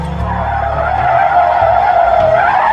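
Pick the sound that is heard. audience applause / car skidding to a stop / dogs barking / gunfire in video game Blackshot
car skidding to a stop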